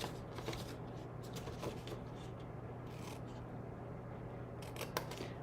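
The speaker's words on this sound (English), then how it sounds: "I'm going to take my scissors and I'm going to just angle cut each of these tabs." Scissors snip at angles across paper tabs, a string of crisp, close cuts and rustles with no talking.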